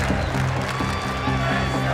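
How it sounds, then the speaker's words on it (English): A football crowd at the Super Bowl chants a player's name in a rhythmic, repeated pattern, heard from a distance inside a large stadium beneath a commentator's voice. "The crowd is chanting his name."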